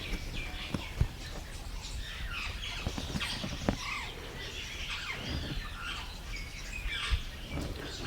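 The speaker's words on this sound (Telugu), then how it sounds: "కిలకిల రావాలు" Birds chirp and squawk in a small village, busy overlapping calls over a constant noisy outdoor background with occasional soft knocks.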